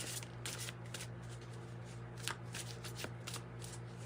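Tarot cards being shuffled by hand in steady, continuous riffling and sliding bursts, close and fairly quiet, over a constant low hum with no talk.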